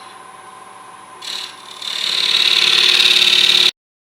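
A skew chisel cuts a rough tree log spinning on a wood lathe, a close, loud scraping hiss that swells and steadies into a bright continuous rasp, bouncing between hard and soft grain, then stops abruptly.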